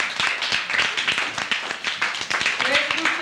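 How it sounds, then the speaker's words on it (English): A fourth-grade class claps for a group of classmates, a brief burst of quick, moderately loud claps from a room of children, with some voices mixed in. "round of applause for Group 2"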